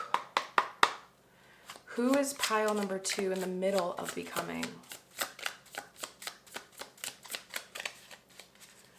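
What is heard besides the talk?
shuffling a tarot card deck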